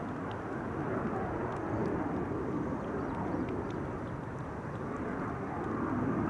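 An airplane takes off from runway 22 at Amsterdam Schiphol Airport, a steady broad jet roar heard from a distance, constant in loudness throughout.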